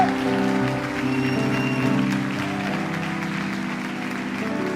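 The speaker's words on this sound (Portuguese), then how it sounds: "Aplauda o Senhor! Aplauda o Senhor." A church congregation claps during a Portuguese-language service, the even, steady applause blending with sustained music that carries on underneath throughout.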